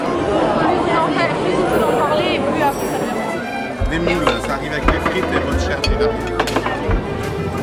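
A lively street at dinnertime with people chattering all around: a continuous close hubbub of mixed voices, with occasional clinks and knocks from the tables and a low rumble joining partway through.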